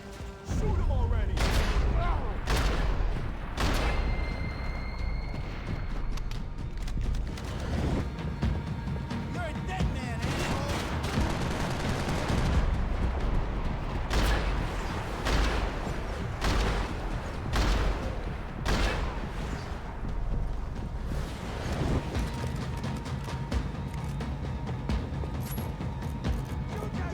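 Dense gunfire in the video game Max Payne 3, with repeated sharp shots and bursts running continuously over a loud game soundscape, while a voice speaks at points underneath.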